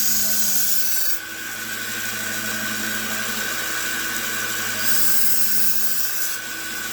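A knife edge is ground on a belt grinder, giving a steady, loud abrasive rasp of steel against the running belt, with slight swells as the blade passes across it.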